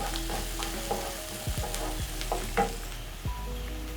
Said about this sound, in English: I'm adding carrots at this point because they usually take a little bit longer to cook.